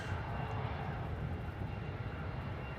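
Airliner arriving at Melbourne Airport, a steady low broadband engine roar that holds even and fairly loud throughout, with no voices.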